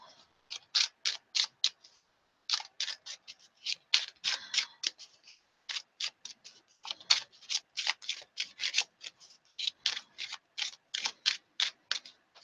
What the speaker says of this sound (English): I'm sure you hear me shuffling